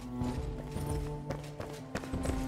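Heavy footsteps of the matron boss in the game Enshrouded, a run of thudding, clip-clop-like steps at an uneven pace, fairly close, over a low game ambience.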